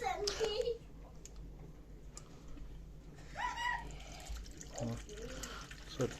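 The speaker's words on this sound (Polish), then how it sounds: "I cała koncepcja jest taka, że zalewamy sobie tutaj nasz basenik wodą." Water is poured into a small 3D-printed basin for an avocado seed, a faint trickling and splashing running under intermittent talk, including a voice in the background.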